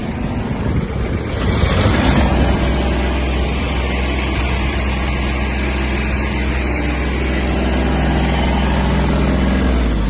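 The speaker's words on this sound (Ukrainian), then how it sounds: "Кардан крутиться. Ножі працюють можемо додати газу." A Kubota GB-20 Japanese mini tractor engine revs up loudly and close with its PTO shaft and blades turning, a harsh, steady mechanical drone that rises after the first second and holds throughout.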